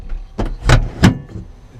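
The cockpit canopy of an OV-10 Bronco aircraft at an aviation museum is pulled shut, giving a few close, sharp mechanical thumps and rattles with a short sliding whir between them.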